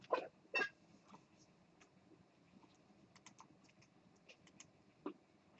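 Quiet, intermittent typing on a computer keyboard during a programming lecture: a few louder clustered keystrokes at the start, then scattered light key taps and a final isolated keypress, with no talking.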